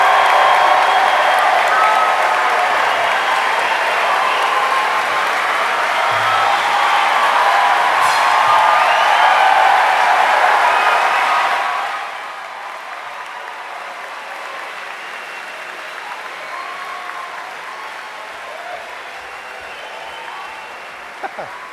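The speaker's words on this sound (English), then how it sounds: "How about one more round of applause for the wonderful Denison class of 2016?" Graduates of the Denison University class of 2016 receive loud, sustained applause from a large commencement crowd, which fades after about twelve seconds into lighter scattered clapping and murmuring.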